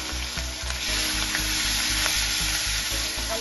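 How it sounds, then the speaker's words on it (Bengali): Garlic paste, ginger paste and turmeric frying in hot oil in a wok, with a loud, steady sizzle and rhythmic scraping stir strokes heard close up and alone. "ভালো করে নাড়াচাড়া করে নিলাম।"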